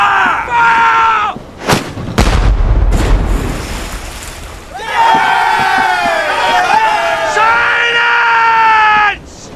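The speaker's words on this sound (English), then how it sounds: "Starboard bow chaser! Fire!" A ship's bow chaser cannon fires in a naval battle drama, one heavy booming blast with rumbling tail between bursts of shouting and yelling crew voices, loud and close.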